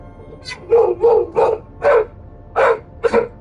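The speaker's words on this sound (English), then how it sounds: "come get the dog" A dog barks six times in quick, uneven bursts, loud and close, with no talking over it.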